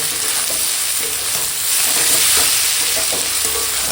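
Vegetables seasoned with turmeric, chili powder and salt sizzle and fry steadily in a pan while being stirred, a continuous loud crackling hiss with no talking.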